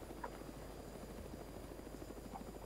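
A white and blue civilian aircraft in the Arma 3 video game drones as a faint, steady rotor-like hum, low and distant throughout the brief moment.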